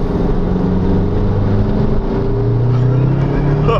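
A car engine pulls steadily in third gear, a loud continuous drone with rising tones close by.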